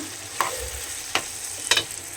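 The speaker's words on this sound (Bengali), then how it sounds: "এখানে ক্যাপসিকাম বেগুন আলু পেঁয়াজ দিয়ে মাছের তেল ভাজা বলো চচ্চড়ি বলো যা বলো বলো একটা বানানো হচ্ছে" Capsicum, eggplant, potato and onion fry in fish oil with a steady background sizzle, broken by three sharp utensil scrapes or stirs at intervals; no voices.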